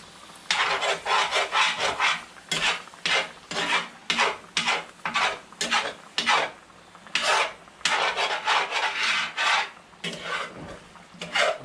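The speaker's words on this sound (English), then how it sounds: "You want to scrape the bottom of the pot" A spoon scrapes along the bottom of a pot of smothered potatoes, a rhythmic series of close, gritty rasping strokes repeating steadily with short gaps between them, with no talk.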